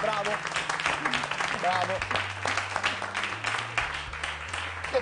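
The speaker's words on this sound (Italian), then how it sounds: "Fategli un applauso" Studio audience applauding on an Italian TV cooking show, a steady broadband wash of clapping running the whole time, with a voice speaking and calling out over it and music playing underneath.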